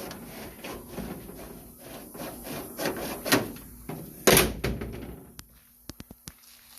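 The door of a 1937 GMC T14A truck swings on its hinges with soft creaks and rubbing, then a louder knock and a few sharp clicks as it settles shut, close by with no voices.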